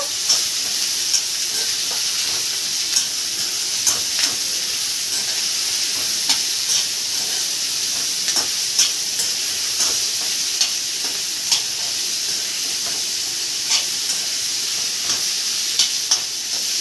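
Onions fry in well-heated oil for a prawn curry, a constant bright sizzle heard up close, broken by regular light ticks and scrapes of a spoon against the pan, with no voices.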